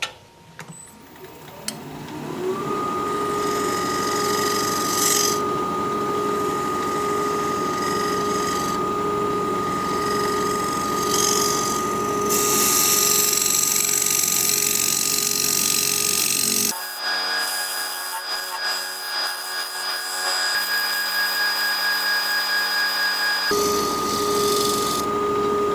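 A dovetail chisel cutting a live-edge holly bowl on a wood lathe, a loud sustained whirring scrape with ringing tones that shift abruptly partway through as the cut changes.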